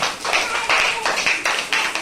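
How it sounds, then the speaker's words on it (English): Students clapping their hands in a classroom during an English jigsaw puzzle activity, a few short bursts of close, uneven group claps with brief pauses between them. "You can clap your hands."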